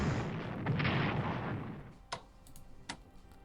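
A battleship bombards a town in the WWII strategy game Strategic Command, a loud rumbling artillery blast fading over two seconds, followed by a few scattered sharp distant shots.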